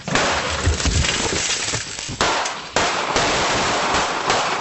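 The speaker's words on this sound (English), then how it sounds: "the homeowner fires through the outer glass door" A homeowner fires a gun through an outer glass door during a night break-in by teens: sharp loud cracks with bursting glass, including two distinct blasts, amid continuous noisy clatter.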